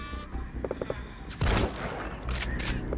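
Gunfire from Quiet, the sniper companion in the video game Metal Gear Solid V: The Phantom Pain, comes as a few quick shots followed by a loud, sharp blast and rumbling echoes amid other game sounds.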